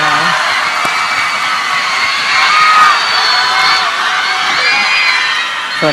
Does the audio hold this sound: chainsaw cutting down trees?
no